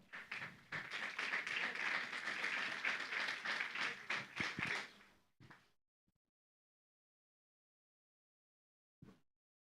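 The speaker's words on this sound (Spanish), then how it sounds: "Vamos a dar un aplauso, por favor." Church congregation applauding as the pastor is invited up at a Sunday service, about five seconds of loud, dense clapping that tapers off, then near silence broken by a couple of faint knocks.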